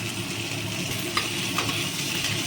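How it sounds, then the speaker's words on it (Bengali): Whole spices and kasuri methi fry gently in a pan for chicken do pyaza, giving a soft continuous sizzle with a couple of faint stirring scrapes and no talking. "এটা আর একটুখানি হালকা করে ভাজবো আর টেস্টের জন্য একটু কচুরি মেথি দিয়ে দিচ্ছি"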